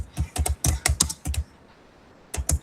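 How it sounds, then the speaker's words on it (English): Fingers type on a computer keyboard during an online commercial drafting class, with rapid clusters of close, crisp key clicks, a pause of about a second, then a few more keystrokes. "I'm typing this for everyone."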